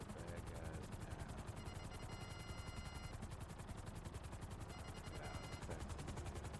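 Rapid gunfire rattles in a video game mission, dense repeated bursts layered over a loud droning engine-like rumble that runs the whole way, with faint voices partly buried in the mix.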